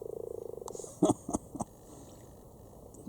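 A mating cluster of frogs in a Cambridge garden pond gives a rapid, rhythmic croaking trill that fades out, followed by a few louder, lower croaks close by at night.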